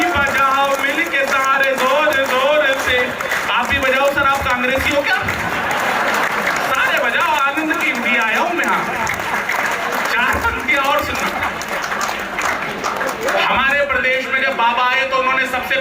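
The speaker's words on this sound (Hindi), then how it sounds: "ताली" An audience applauds at a Hindi poetry gathering in Ghaziabad, dense continuous clapping filling the space at full volume throughout, with voices mixed in.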